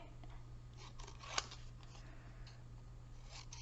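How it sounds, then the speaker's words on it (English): Scissors fussy-cut around a design in patterned designer series paper, with faint snips and paper rustles over a low hum and one sharper click. "So I'm just simply going to fussy cut it"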